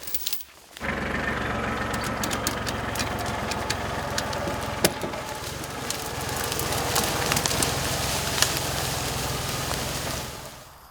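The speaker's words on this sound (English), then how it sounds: "I chain the logs to my tractor and haul them back to the yard for processing." A tractor hauling chained logs after felling and limbing, its engine a continuous low rumble that starts abruptly and keeps going, with crackling and knocking noises over it and no talk.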